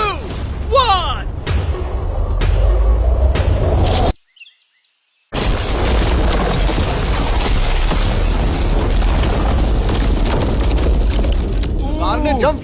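A car is blown up in a large explosion test with mannequins inside, giving a loud, sustained roaring blast and rumble that cuts out briefly before the heavy noise returns, with speech heard over it.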